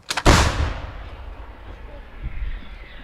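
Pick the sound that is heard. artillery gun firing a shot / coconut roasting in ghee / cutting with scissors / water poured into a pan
artillery gun firing a shot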